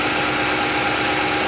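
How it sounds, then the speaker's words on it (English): A 2020 Nissan Titan engine idles steadily after an oil change, a loud, even, close-up rumble with no talk. "Okay, the engine is on."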